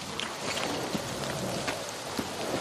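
Steady rain falls in the post-apocalyptic shooter Metro Exodus, a constant even hiss with scattered soft drop ticks running alone throughout without a break.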